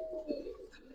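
A domestic Giribaz pigeon coos softly, a brief low throaty call close by, with faint background noise and a thin steady tone behind it.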